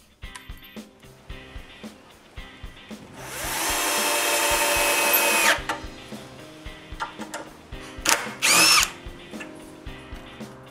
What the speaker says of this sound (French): j'utilise une visseuse qui n'a pas beaucoup de torque pour ne pas endommager les vis